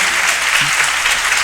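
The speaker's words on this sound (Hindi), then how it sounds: "जोरदार तालियां छोटे भाई आदिश के लिए।" Loud, dense applause from an audience for a young boy reciting a Jain sutra, continuous throughout the short moment, with a faint voice briefly under it.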